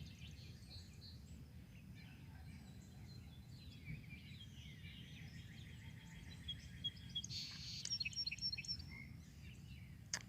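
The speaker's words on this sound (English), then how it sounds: "And the birds have started singing better now." Birds sing through a quiet morning outdoors, scattered chirps and short song phrases rising over a low steady rumble, busier and a little louder toward the end, with no one talking.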